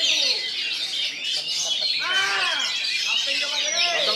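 Oriental magpie-robin (kacer) singing at a songbird contest, a dense run of bright chirps, whistles and warbling phrases close by, with a continuous murmur of crowd noise and an announcer talking underneath.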